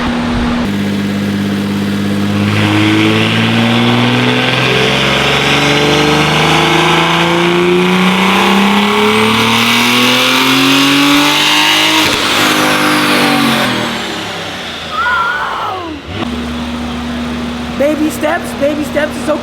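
A 1200 hp BMW M4 revs hard through a dyno pull, its engine note climbing steadily for about thirteen seconds before dropping back to a lumpy idle, loud and close, with people talking over it.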